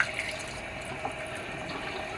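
Water runs steadily from a tap while a human hair wavy wig is rinsed in a sink, a soft continuous splashing wash with faint spatters, fairly quiet and without talk.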